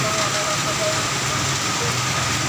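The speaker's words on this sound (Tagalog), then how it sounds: "Walang tigil ang ulan." Steady rain hiss fills the whole stretch, a dense wash of falling water with a faint low rumble beneath and no voices.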